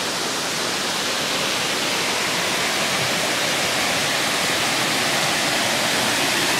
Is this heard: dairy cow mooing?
no